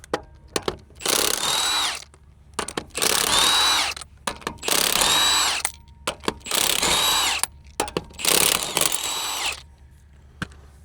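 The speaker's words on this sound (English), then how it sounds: "Now I have an impact to take off the lug nuts." An impact wrench removes lug nuts from a Polaris Xpedition in five loud, close bursts of hammering rattle, each lasting about a second, separated by short pauses and a few clicks.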